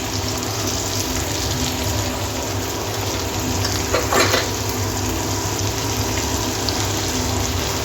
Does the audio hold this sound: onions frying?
yes